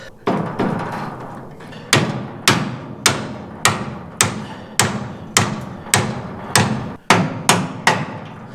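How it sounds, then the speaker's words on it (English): Hammer taps driving bushings into the eyes of a rear leaf spring, a steady series of about a dozen sharp, fairly loud metallic knocks at an even rhythm, close by with no talking. "Sometimes you have to give them a little tappa, tappa, tappa."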